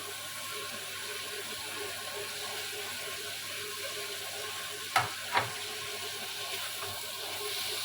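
Egg tadka frying softly in a pan as chopped tomato and green chili go in, a low continuous sizzle broken by two quick sharp clatters, with no voices.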